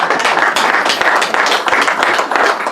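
A dinner audience at a 30th anniversary celebration applauds, with dense, steady clapping from many hands filling the room, close and continuous throughout.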